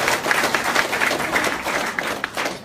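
A huge crowd of over 20,000 people at a stage event applauds, with dense, continuous clapping throughout.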